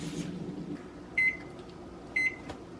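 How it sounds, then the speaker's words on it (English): Microwave oven heating chocolate, a quiet low hum with two short electronic beeps and a faint click near the end. "put that in the microwave for 20 seconds"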